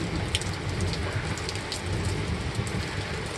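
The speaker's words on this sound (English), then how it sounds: "it was in the middle of a big thunderstorm, a downpour" A heavy thunderstorm downpour pours steadily and close, with dense hissing rain and scattered drops pattering on a surface, no voices.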